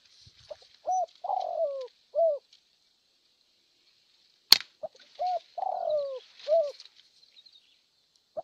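Spotted doves (tekukur) give soft, low cooing phrases in two distinct bursts in quiet open countryside near Mojokerto, with a single sharp click between them.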